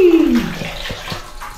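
Water gushes from an indoor tap, a loud close splashing stream that quickly dies away as the flow is shut off, leaving faint drips and quiet.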